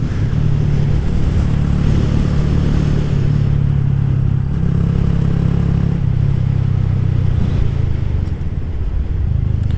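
A Honda Grom motorcycle's exhaust, a loud steady low engine drone held throughout with slight dips in pitch, close and alone without any talk.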